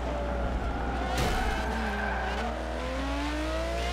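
A Ferrari race car in Forza Motorsport 7 drones with a steady engine note that climbs in pitch, a brief burst of tire skid near the middle, and continuous mechanical noise throughout.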